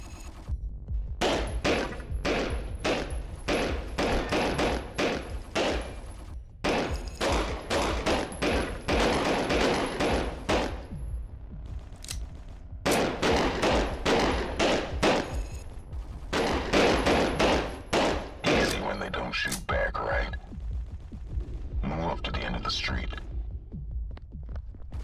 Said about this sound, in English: Shoot the targets.